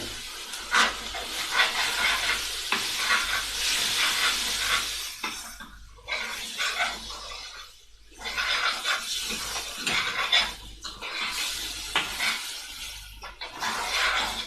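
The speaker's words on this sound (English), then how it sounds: "I'm cooking this on a high heat. So stir it like mad." Chicken chilli stirred hard over high heat in a seasoned aluminium pan, with a steady loud sizzle and hiss broken by repeated scraping sweeps of the spoon and brief lulls.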